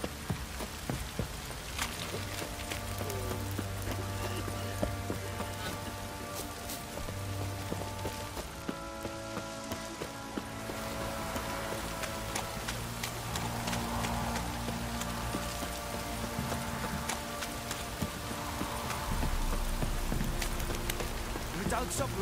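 Steady rain falls in The Witcher 3, a dense hiss of drops on surfaces that continues throughout, with in-game music and ambient tones underneath and occasional faint hoof clops.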